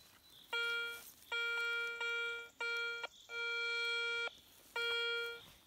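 Metal detector signal tone sounding as a series of six loud, steady electronic buzzing beeps of varying length with brief gaps between them, close up and with no talking.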